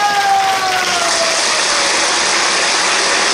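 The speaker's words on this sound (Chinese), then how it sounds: "我们给他们一个热烈的掌声好不好" A live audience applauds after a song at a concert with a band, lights and sound system, giving a steady, dense burst of clapping that fills the space, with faint feedback tones underneath.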